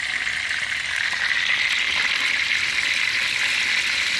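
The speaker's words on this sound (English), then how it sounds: "We are frying." Fish fries in hot oil for Jamaican cooking, a dense continuous sizzle and crackle close up, steady and loud with no talk.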